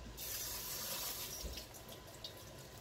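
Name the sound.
rinsing sauerkraut under running tap water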